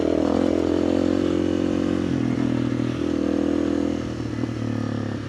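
Dirt bike engine droning steadily close up while riding a rocky, sandy trail on South Maggie Mine Road, with clattering and scraping from the rough ground over a continuous motor hum.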